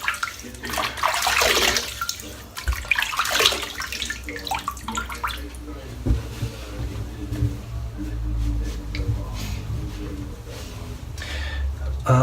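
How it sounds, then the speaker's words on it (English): Water running from a tap while a head is wetted before a shave, splashing and gurgling loudly at first, then settling into a softer steady flow with small splashes. "I'm just going to wet my head."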